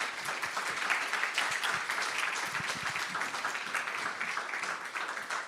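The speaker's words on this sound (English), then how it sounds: "Applause." Audience at a Volt Belgium party general assembly applauds continuously, a dense, even wash of many hands clapping in a hall, held at a moderate level for several seconds with no clear talk.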